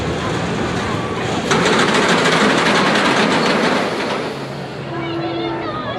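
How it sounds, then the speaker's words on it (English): An amusement park train at Worlds of Fun rolls in on its rails, loud and close, with steady clattering wheels and rumble that swell mid-way, then ease off as a low engine tone hums near the end. "Here comes the train right now."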